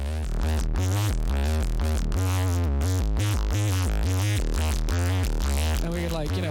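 A heavily distorted bass line on a side-chained channel in a music production session. The tone is dense and buzzing, with rhythmic pumping notes playing continuously and loud, and no talking.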